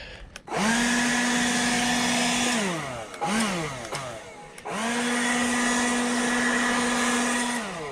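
A leaf blower blows dirt off a car outdoors, spinning up to a loud, steady roar, briefly dipping and revving, then roaring steadily again; it is close and alone, with no talk.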